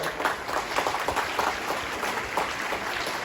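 Crowd applause at a school Independence Day celebration after a young girl's song with an orchestra, a dense crackle of many hands clapping at once, steady and fairly loud throughout with no voices.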